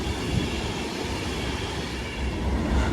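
A Class 390 Alstom Pendolino on a London Euston to Manchester Piccadilly service passes through Watford Junction station, a steady close rumble of wheels on rails with a slight swell toward the end.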